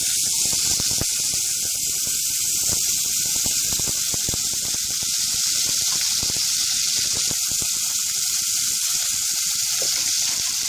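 Curry leaves and cut brinjals hit hot oil in a pan, giving a loud, steady frying sizzle with scattered crackles and pops that last throughout, with no talk.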